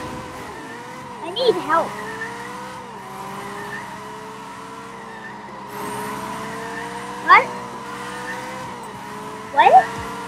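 Video game tire screeches from a McLaren 675LT or 570S GT4 skidding under handbrake in Gear Club Unlimited 2 on Nintendo Switch, short squeals repeating three times over a steady engine drone, with a person talking throughout.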